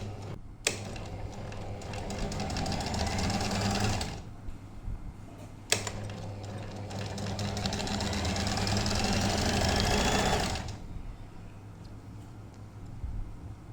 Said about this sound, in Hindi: इसलिए मैं इसको उल्टी साइड से सिलाई करूँगी